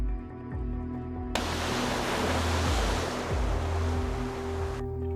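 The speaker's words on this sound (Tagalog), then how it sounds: "Lakas umagos ng tubig." Strong water rushes where a river meets the sea at Masanga Point, a remote area, a dense, steady roar of flowing water that cuts in abruptly and stops near the end, over soft background music.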